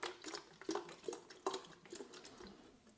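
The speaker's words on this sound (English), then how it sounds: "so we're just going to shake it up" Fertilizer solution sloshes in a watering can in quick rhythmic splashes, close and fairly quiet, with light clinks of the container.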